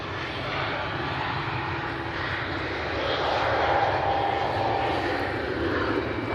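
A Ryanair passenger jet departs Manchester Airport, a loud, continuous broadband engine roar that swells slightly toward the end, heard from a spotting position with no talk.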